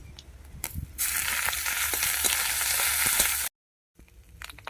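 Onion paste dropped into hot oil in a wok, with whole cumin and bay leaves, bursts into a loud, steady sizzle that holds for a few seconds, then cuts to silence before quieter kitchen clatter returns.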